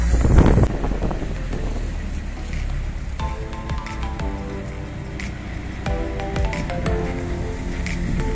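Strong wind buffets the microphone with heavy low rumbling, mixed with lapping water from a very choppy lake and occasional light clinks nearby.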